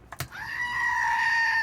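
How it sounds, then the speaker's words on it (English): A loud, sustained high wailing scream like a screaming goat, heard outdoors near Carrizozo, follows two short soft knocks and holds steady and close to the end. "Yo, the old screaming goat."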